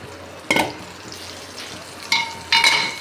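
Tomatoes sautéing in a pan as a cooked mixture of toor, masoor and moong dal is stirred in, with a soft sizzle broken by several sharp spoon scrapes and clanks against the pan.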